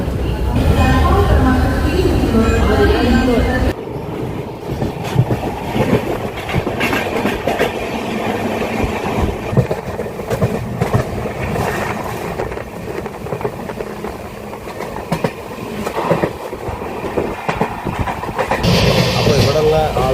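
Inside the Mangala Lakshadweep Express, a steady rumble and rhythmic clatter of wheels on track build as the carriage pulls out of a station, loud and continuous throughout.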